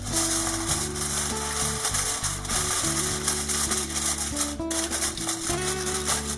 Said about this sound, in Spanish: cogemos un poco de papel de aluminio